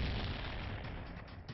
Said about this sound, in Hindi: और शुरू हो गई अंधाधुंध फायरिंग।